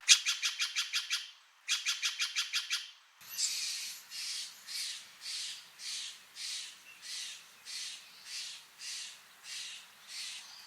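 Steller's jay gives harsh, loud calls, first two quick rattling bursts of rapid repeated notes, then a long steady series of about a dozen raspy squawks at an even rhythm, close and alone.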